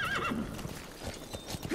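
In Metal Gear Solid 5, D-Horse gallops with quick, steady hoof clip-clops as a high, wavering neigh rings out near the start. The sound is close and fairly quiet.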